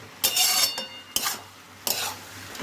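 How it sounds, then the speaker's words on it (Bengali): Sago fried with carrots and capsicum in a pan for khichuri: a soft sizzle broken by three scraping stirs of a spatula, close and fairly quiet, with no talking. "একটু আমরা এর সঙ্গে ভেজে নিচ্ছি গাজর আর ক্যাপসিকামের সঙ্গে"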